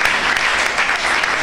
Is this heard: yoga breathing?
no